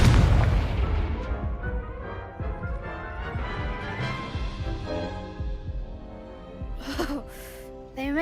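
Hogwarts Legacy spell combat with an Incendio fire spell, deep booming bursts and whooshing magical effects layered over a dense game soundtrack, loud at the start and easing off, with a sharp shimmering burst near the end.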